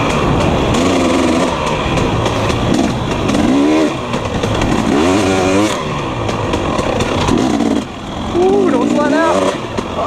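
A 250 two-stroke dirt bike ridden along a trail, its engine revving and rising and falling in pitch close by, with a rider talking over it.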